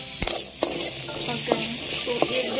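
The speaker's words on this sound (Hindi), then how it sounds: "मैंने थोड़े से चने फ्राई किए हैं" Soaked chickpeas frying in a pan, a quiet sizzle punctuated by several sharp clinks and scrapes of a utensil against the metal, spaced irregularly and close by, with no voices.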